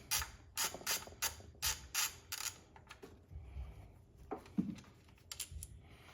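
A 10mm hand ratchet loosens ignition coil bolts on a Toyota 3.4L engine, giving rapid bursts of pawl clicking in regular strokes up close, then a pause and a few more short clicks and small metal handling sounds.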